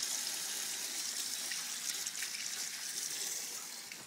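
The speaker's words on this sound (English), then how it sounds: "Now you're gonna come over to the sink and just wash it off." Tap water running steadily into a sink while an Xbox 360 game disc is rinsed off, a continuous hissing gush with no talk, fading slightly at the end.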